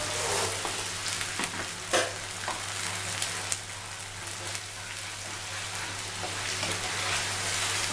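Onion, ginger and garlic paste frying steadily in a pan for a rohu fish dish, a continuous close sizzle with a few scrapes of stirring throughout.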